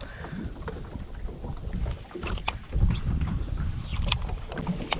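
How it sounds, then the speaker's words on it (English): Wind gusting outdoors along a creek, roaring steadily into the microphone with a swelling rush near the middle, alongside faint rustling and creaking movement. "Getting a little breezy out here. Wind is picking up."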